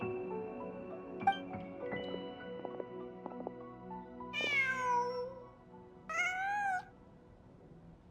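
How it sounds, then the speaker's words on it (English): In a video game, a cat gives two distinct meows a couple of seconds apart over a quiet ambient background with soft clicks and tones. "Just a cat."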